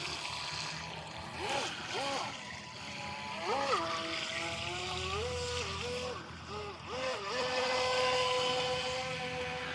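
A Haiboxing Surge X03 remote control boat's small motor whines steadily on water, its pitch rising and falling as it speeds up and turns, with someone talking over it.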